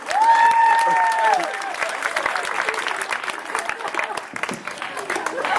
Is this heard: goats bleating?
no